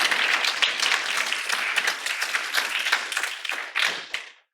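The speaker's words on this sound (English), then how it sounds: "a big round of applause for our speakers that were here today" An audience at a DDMA Creative Mixer event applauding the speakers, a dense burst of clapping that carries steadily for about four seconds and then fades out.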